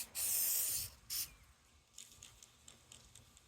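A can of Lysol disinfectant sprays onto a hand in one long hiss and then a shorter second blast, followed by faint patters and light handling noises nearby.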